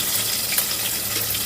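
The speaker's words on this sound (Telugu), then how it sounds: "ఉల్లిపాయలు బాగా వేగాలి." Onions fry in a pan with whole pulao spices such as cinnamon and cardamom for bagara rice, giving a steady, even sizzle that stays close and constant throughout, with no talking.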